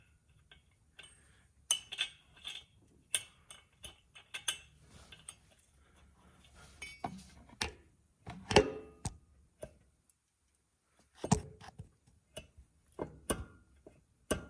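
Metal washers and shims slid and clinked by hand on a Porsche Turbo S in a garage, a run of sharp, close ticks and clicks in irregular bursts with quiet gaps between.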